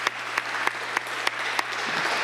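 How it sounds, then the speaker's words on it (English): Applause at a city council meeting in Cleveland, a steady patter of many hands clapping at moderate distance that holds evenly throughout, with a faint low hum underneath. "if I could ask for a round of applause for Ms. Trevisano, who's with us tonight."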